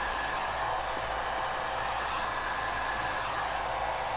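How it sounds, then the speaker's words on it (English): A heat gun blows hot air in a steady, close, loud broadband whoosh that holds unbroken throughout, used while cutting parts during a Suzuki DRZ400SM exhaust install. "Just be easy with a heat gun."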